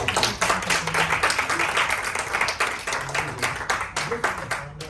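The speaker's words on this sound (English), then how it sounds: "Give her a round of applause." Audience applause at an annual general meeting, a dense, steady wash of many hands clapping at close range for the whole stretch, with a few voices calling out over it.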